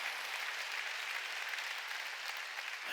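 A church congregation at a Sunday worship service claps together in a thick, sustained burst of applause, many hands blending into a bright, continuous roar.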